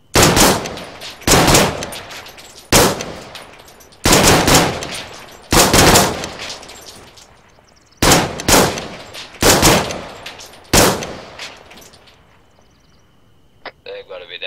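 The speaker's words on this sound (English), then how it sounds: "Are you still shooting, John?" Loud, close machine-gun fire comes in about ten sharp bursts, each cracking and echoing before it fades. The bursts grow further apart and stop, leaving a quieter tail.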